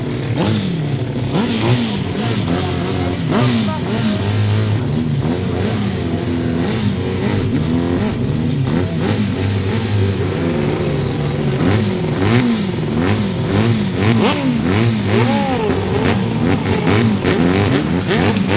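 Grasstrack racing sidecar outfits revving loudly on the start line before a race restart, a continuous dense roar of several engines rising and falling steadily throughout.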